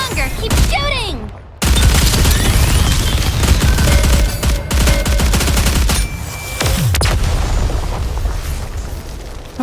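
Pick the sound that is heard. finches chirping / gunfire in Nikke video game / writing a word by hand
gunfire in Nikke video game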